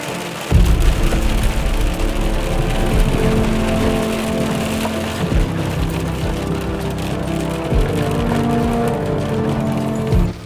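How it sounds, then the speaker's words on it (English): Heavy rain drumming on a nearby surface at a desert campsite near Joshua Tree National Park, a loud continuous patter with a low steady rumble underneath and occasional thuds. "The rain moved in pretty quickly"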